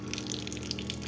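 Water from a motor-fed pipe pours down onto plants in a garden with toor dal, a steady close splashing stream running alone without talk.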